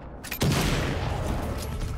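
A big gun firing in the video game Zombie Army 4: Dead War, one loud close blast followed by a long rumbling decay that fills the rest of the moment.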